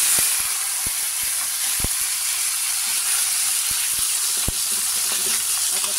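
Pork steak sizzling steadily in a hot pan, a loud, dense hiss running throughout with occasional faint clicks and taps of utensils.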